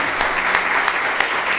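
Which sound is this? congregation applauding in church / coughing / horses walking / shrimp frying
congregation applauding in church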